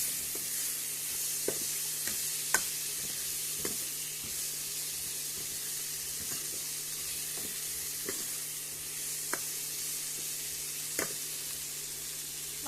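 Vegetables and masala frying in a hot pan, a continuous sizzle and hiss broken by occasional scraping stirs of a spoon, close and steady throughout.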